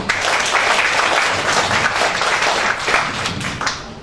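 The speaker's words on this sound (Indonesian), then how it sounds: "Beri aplaus buat guru-guru." Audience applause for teachers at a teacher-training event, a sustained wash of many people clapping together that fades slightly at the end.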